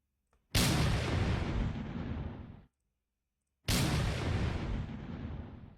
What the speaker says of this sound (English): the bombardment began here in Almendrajelo